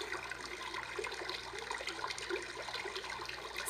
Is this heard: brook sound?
yes